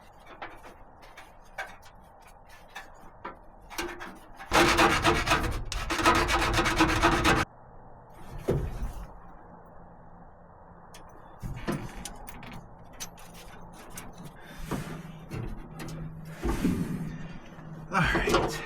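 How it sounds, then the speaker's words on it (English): Work on a brake line of a 1969 Chevy C20 truck, with a loud sustained rasping burst of cutting partway through and scattered clicks, scrapes and handling taps around it, plus occasional talk. "let's cut that, flare it, and get it on there"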